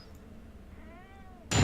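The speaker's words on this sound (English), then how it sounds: "It's almost dinner time for the boys. They're meowing at us." Cats meowing just before dinner time, one short, faint, rising meow, followed by an abrupt loud burst of noise at the end.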